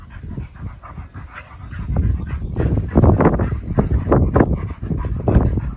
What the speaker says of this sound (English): High energy dogs, man.